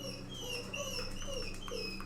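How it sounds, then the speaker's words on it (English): A dog whimpers and yips continuously in high, wavering whines, close and fairly loud, over a steady low background hum. "This dog just don't ever shut the fuck up."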